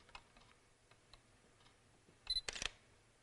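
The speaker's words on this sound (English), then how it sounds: "now let's listen to the shutter sound" Shutter of a Sony a7 II mirrorless camera held close to a microphone, firing two quick mechanical clicks near the end after faint ticking handling noises, with no talk.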